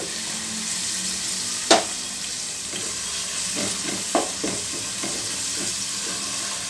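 Ginger garlic paste fries in hot oil for a methi paneer gravy, a soft, continuous sizzle with a few sharp stirring clinks and scrapes, close and fairly quiet, with no voices.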